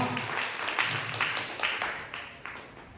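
Scattered audience applause at an RCM business meeting, several uneven bursts of hand claps that rise and fade over a few seconds, moderately loud in an indoor hall.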